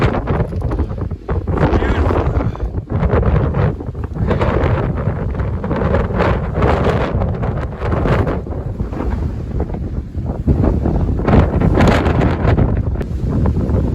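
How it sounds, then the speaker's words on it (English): Strong wind roars and buffets the microphone on a mountain observation tower, a loud, continuous gusting rumble with surging bursts throughout, with a voice faintly audible beneath it. "this wind almost blew me off the tower"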